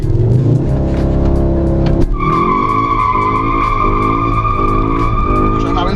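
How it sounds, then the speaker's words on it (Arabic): A Skoda Octavia RS launches hard with launch control, its engine held at a buzzing rev before a sudden drop into a loud, sustained tire squeal as the car surges forward, heard from inside the cabin. "تسمع اللونش كنترول ده؟"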